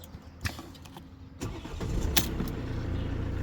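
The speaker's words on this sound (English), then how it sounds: "Let's see if this car's going to start." A Mercedes C250 with an electronic ignition lock fault cranks in a few short bursts, then catches and settles into a steady, close engine idle.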